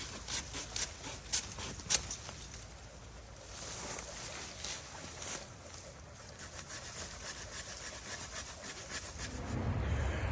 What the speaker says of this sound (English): so I just cut the vine down